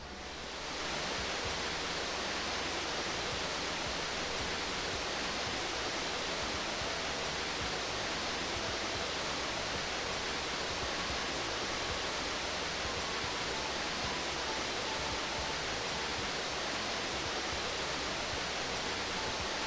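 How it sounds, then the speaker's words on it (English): Steady, even rush of the waterfall area in the video game Grandia II, a broad continuous wash of falling water held at one level throughout, with no voices. "This is the waterfall area."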